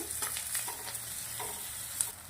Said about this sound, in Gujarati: ડુંગળી ભેગું આને પણ થોડું સાંતળી દેવાનું છે